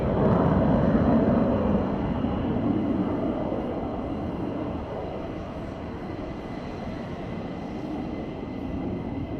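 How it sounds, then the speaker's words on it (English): A US Air Force F-15 taxis at RAF Lakenheath, giving a steady, broad engine roar heard from a distance. It holds at a fairly even level and eases slightly over time. "So we have one taxiing down on the north side, and then we have another one taxiing down on the south side."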